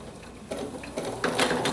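Embroidery sewing machine stitching a small square appliqué mug rug, a quick rhythmic mechanical whir that starts softly and grows louder over the short stretch.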